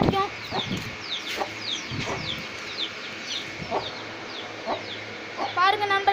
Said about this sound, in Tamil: இங்கே தான் கோழியெல்லாம் வச்சுருக்கோம்.